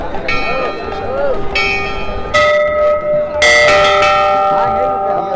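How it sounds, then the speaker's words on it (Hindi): Kedarnath temple bells ringing in repeated loud, bright strikes with long shimmering decay, several bells overlapping toward the end, with faint voices in the background. "मंदिर की घंटियाँ आपके अंदर जो वाइब्रेशन उत्पन्न करती हैं, वो आपको शांति प्रदान करती हैं।"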